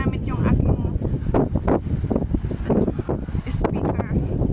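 Gusty wind buffets an unshielded microphone outdoors at night on a walk around Tung Chung, Hong Kong, a steady loud rumbling roar with bursts of flutter and a person speaking over it.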